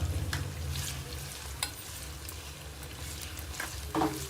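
Onions frying with salt and fenugreek seeds in a pan for village-style fish curry, with a continuous close sizzle, scattered spoon scrapes and a low hum underneath.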